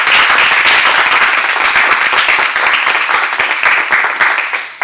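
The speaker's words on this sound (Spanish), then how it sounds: "Vamos a dar un aplauso al Señor." Sustained applause from a church class congregation, dense steady clapping filling the room for about five seconds before tapering off at the end, with no talking over it.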